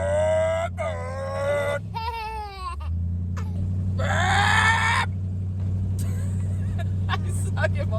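A woman imitates a motor with her mouth, producing several rising and falling buzzy revving noises in short bursts, close and fairly loud over a steady low car-cabin hum, with brief pauses between attempts.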